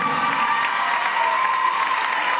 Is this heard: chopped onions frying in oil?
no